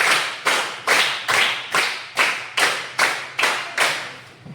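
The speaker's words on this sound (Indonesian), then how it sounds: "Tepuk 5 2 kali." A class of students claps a counted pattern in unison: about ten sharp, evenly spaced group claps, loud and close, with no talking.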